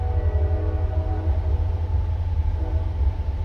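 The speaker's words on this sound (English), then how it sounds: "I love that train. I don't know if you guys can hear it or not." A train passes with a steady low rumble and a sustained horn tone held throughout, heard from a distance and loud, with no talking.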